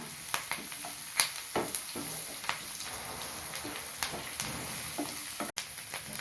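Onions sauté in a pan with asafoetida and curry leaves, making a soft, steady sizzle broken by light stirring scrapes and taps.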